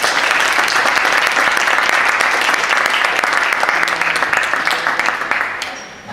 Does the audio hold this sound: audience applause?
yes